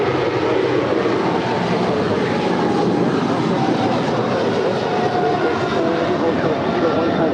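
A China Airlines cargo jet roars steadily on departure from a large airport, a broad continuous engine rumble that holds level throughout, with a voice talking over it.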